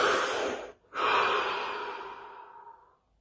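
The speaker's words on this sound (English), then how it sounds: "Deep breath." Two long, deep breaths close to the microphone, an airy inhale cut by a brief pause and then a slow, fading exhale, with no talking.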